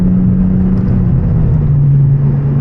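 An engine drones steadily and loudly from inside a car while it drives, held at low RPM without sharp revs. The pitch dips slightly partway through.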